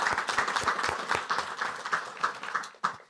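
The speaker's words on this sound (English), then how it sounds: "applaud for all of you guys" Scattered applause at a city council meeting, a modest patter of individual claps from a small group, fairly quiet and uneven, fading toward the end.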